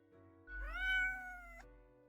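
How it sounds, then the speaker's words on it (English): One drawn-out, clear meow from a cat in the video game Death and Taxes, about a second long and alone over faint background music. "Meow, the cat replies absent-mindedly."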